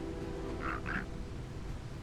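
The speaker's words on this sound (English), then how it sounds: "Big frog." Frog in the Path of Titans dinosaur game croaks twice in quick succession, clear and mid-loud over a steady bed of game ambience and low rumble, no voices.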